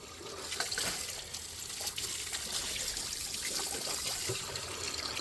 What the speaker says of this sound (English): Here's our opportunity to hose this thing down.